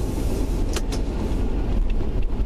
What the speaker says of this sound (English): it's got a 231 Buick V6 engine with a turbo